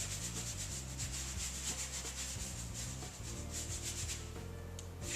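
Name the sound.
lightly wiping a wall with a damp sponge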